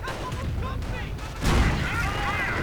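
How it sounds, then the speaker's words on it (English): Nebelwerfer rocket artillery firing in a World War II strategy game, a dense rumbling volley of launches and booms that swells midway, heard under a commentator's voice. "the Nebelwerfer once more fires away"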